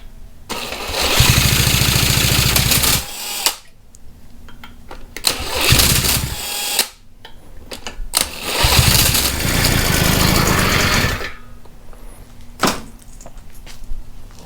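A 50cc bike engine with the choke on is cranked in several bursts, each catching with a loud rough buzz for a couple of seconds before cutting out, with quiet pauses between attempts.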